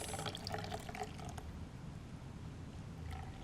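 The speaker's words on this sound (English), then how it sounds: "Get it nice and cold, and then pour it through into a nice martini glass." A chilled martini strained from a shaker into a martini glass, a splashing liquid pour that starts busy and tapers into a steady trickle.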